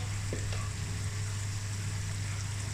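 Ground spices such as chilli powder and turmeric fry with tomatoes in a pan for masoor dal, giving a steady, even sizzle with a couple of faint clinks early on.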